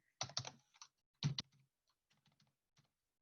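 A few quiet clicks from computer keyboard keys come in two short clusters, then scattered single taps fade out, with no talk.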